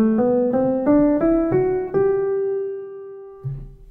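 A piano plays a rising scale: a run of clear, evenly spaced notes climbs to a final note that rings out and decays, followed by a softer low note near the end.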